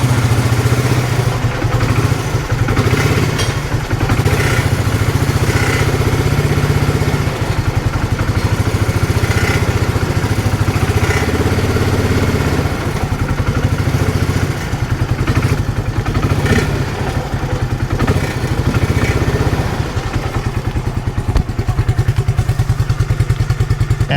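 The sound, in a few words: car engine driving out of shop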